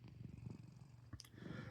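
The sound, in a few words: sleeping cat purring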